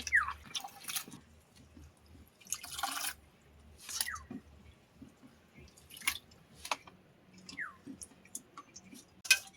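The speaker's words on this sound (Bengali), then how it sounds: "এই সজনা পাতাগুলো ভালো করে আমি জল দিয়ে ধুয়ে নেব" Drumstick (moringa) leaves being rinsed in water, with scattered splashes, drips and wet squishing handled close by in short bursts, fairly quiet and with no talking.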